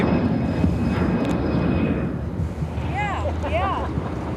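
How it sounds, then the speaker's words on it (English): An Air Wisconsin airliner takes off toward Green Bay, a broad rumbling jet roar heard from a distance through wind noise, with birds chirping in the background. "Yet another Air Wisconsin. Taking off to Green Bay."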